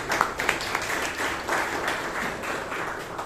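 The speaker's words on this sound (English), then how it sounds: "Can we have a round of applause, please?" A crowd at a Toastmasters meeting applauding steadily, a dense wash of clapping that holds at a moderate level for a few seconds.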